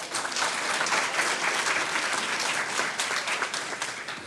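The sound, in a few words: board meeting audience applauding an award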